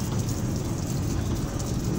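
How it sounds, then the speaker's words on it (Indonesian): Water hosed over the inside of a car's bonnet and engine bay during an engine wash, a steady broadband rushing hiss that stays even and fairly close throughout, with no pauses. "Bagian sisi dalam kap mesin juga sekalian kita siram air agar debunya juga turun."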